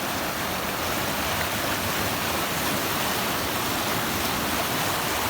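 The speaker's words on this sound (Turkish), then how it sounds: "Bu akarsu buz gibi şu ileride gördüğünüz dağlardan sular akmaktadır." Ice-cold mountain stream flowing steadily, a dense, even rushing wash of water with no break, loud and close, no voices.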